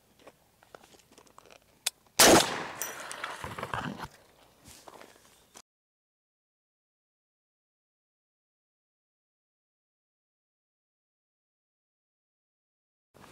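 A .458 SOCOM big-bore upper fires a 300 grain Barnes TSX round into water jugs, one loud sharp blast near the two-second mark with a splashing, tearing burst trailing off for a few seconds before silence.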